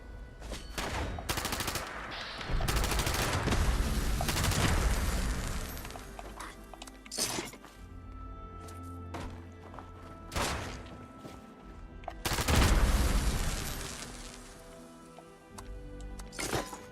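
Rapid sustained bursts of automatic fire from a drum-magazine gun in the video game Fallout 76, loud and dense, with long streams of shots separated by brief pauses and a few sharper impacts.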